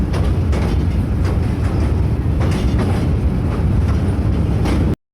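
A train crossing the Bhairab rail bridge rumbles steadily and loudly close by, with a rhythmic clickety-clack of wheels over the rails and a deep, continuous roar.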